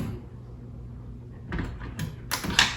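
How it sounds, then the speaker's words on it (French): A car door is opened nearby: a low rumble of the latch giving way followed by sharp rattling, scraping bursts as the door swings, after a quiet stretch. "Ouvre la porte."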